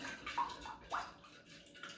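Water is poured into a bowl in a kitchen while a Hatay-style special kebab is being prepared, giving a few soft, brief splashes and trickles at low volume with no talking.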